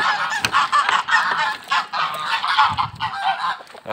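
Geese honk loudly and repeatedly close by at a village farm as they wait for feed, overlapping calls in a noisy, uneven cackle.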